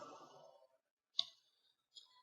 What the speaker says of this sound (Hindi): इसको मैं डबल क्लिक करता हूँ